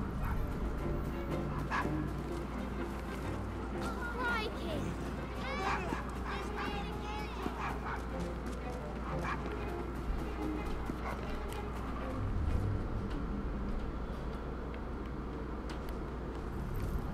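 A dog in the video game Assassin's Creed Syndicate yips, barks and whimpers repeatedly at a moderate distance, scattered through a steady background of game ambience and street noise.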